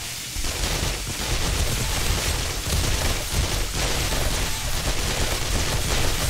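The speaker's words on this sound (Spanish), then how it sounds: "yo aquí pegando tiros, pues me lo paso guay" Continuous gunfire in the zombie survival video game 7 Days to Die during a nighttime horde, dense overlapping shots and bursts forming a loud unbroken barrage with no talking.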